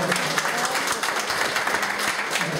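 Congregation at a Spanish-language church service applauding the Lord, a dense, steady wash of many hands clapping throughout, loud and continuous with no pauses.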